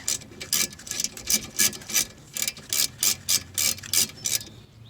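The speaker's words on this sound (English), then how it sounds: "go ahead and tighten this and then torque it to spec" A torque wrench tightens a bolt on a Mitsubishi brake caliper during a brake pad change, giving about a dozen short, close, rasping ratchet bursts in a steady rhythm with brief pauses between strokes.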